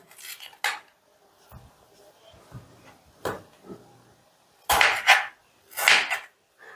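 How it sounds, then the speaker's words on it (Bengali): Raw green tomatoes cut into long strips with a knife on a board, heard as several separate close chopping knocks and scrapes spaced unevenly, with quiet gaps between them. "এই কাঁচা টমেটো দুটোকেও আমি ঠিক এই রকম লম্বা লম্বা করে কেটে নেবো"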